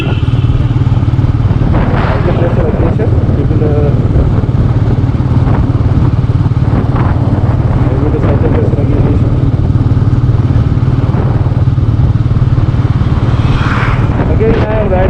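Royal Enfield Meteor 350 motorcycle engine running steadily while being ridden, a constant low rumble with wind noise throughout and a voice talking over it.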